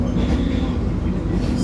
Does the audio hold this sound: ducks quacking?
no